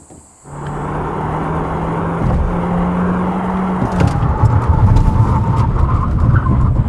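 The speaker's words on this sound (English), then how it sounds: "So let's check out the braking performance of Sonata Hybrid." A 2020 Hyundai Sonata Hybrid on Pirelli 215/55 R17 tyres runs a braking test, with a steady road and engine rumble under a low tone that gives way to rougher tyre and road noise as the car slows.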